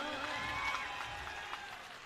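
An audience at a political rally for Punjab Chief Minister Bhagwant Mann claps as a steady, dense wash of applause, heard fairly faint and distant.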